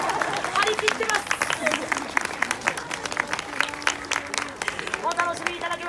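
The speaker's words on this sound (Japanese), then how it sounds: "今日一番の大きな拍手を送ってあげてください。" Audience applause rings out after a monkey performance show at a Japanese shrine plum festival, a dense sustained patter of many hands with crowd murmur and a few voices over it.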